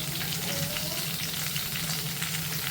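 Kebabs frying in hot oil make a dense, continuous, loud sizzle close by, unbroken and with no voices.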